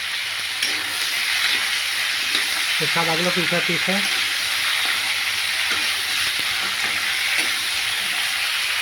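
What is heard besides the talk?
pointed gourd and potatoes frying in a pan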